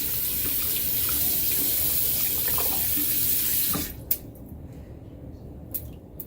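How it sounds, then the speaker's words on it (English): Cold water runs steadily from a tap to wet a shaving brush, a loud continuous splashing rush that stops abruptly near the end, leaving a few faint clicks and drips. "let me go ahead and wet my brush here."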